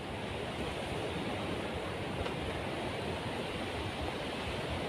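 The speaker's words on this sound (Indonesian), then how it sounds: "Ini tepi di pantai teman-teman, pas di bibir pantai." Steady surf rolling onto a beach shore on Java's north coast at Cemoro, heard as a continuous, even wash of broadband noise with no distinct breaks or voices.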